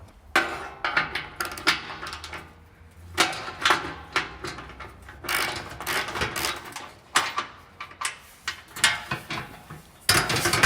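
A hand ratchet loosens and removes a second mounting bolt, clicking in rapid bursts of ratcheting strokes with short pauses between, close and fairly loud throughout.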